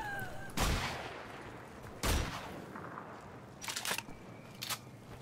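Gunfire in the shooter game Wolfenstein: The Old Blood, two sharp loud gunshots a second and a half apart, followed by quieter clanks and clatter.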